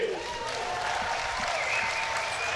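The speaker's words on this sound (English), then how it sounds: "And then the biggest applause of the day so far." Loud crowd applause and cheering from spectators at a canoe sprint World Cup final, a continuous roar of clapping with a whistle-like tone rising through it.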